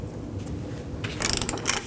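A castle nut being threaded and tightened onto an idler arm ball stud of a 1999-2007 Chevy Silverado 2500HD, heard as a short run of close metallic ratcheting clicks near the end over a low background hum.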